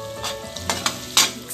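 Garlic hitting melted butter in a pan sizzles loudly and close, broken by a few quick stirring scrapes and clinks over a brief moment.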